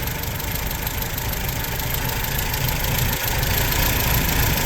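A 1974 MG MGB with a 110 cubic inch engine idles with its hood open, a steady, even rumble with a faint ticking texture, heard close and continuous without talk.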